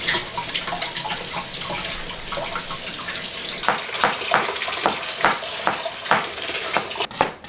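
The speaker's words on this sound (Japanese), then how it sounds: "ゆうちゃん洗ってくる" Tap water runs into a kitchen sink during washing up, a steady close hiss with irregular splashes and clatters as items are rinsed.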